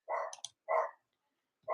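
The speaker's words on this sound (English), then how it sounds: "What dog barking at?" A dog gives three sharp barks, two in quick succession and a third after a long pause, each one short and fairly close against otherwise quiet surroundings.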